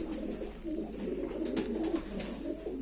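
Pigeons coo softly and repeatedly at a live bird auction, low murmuring calls over a constant background hum with a few brief higher chirps.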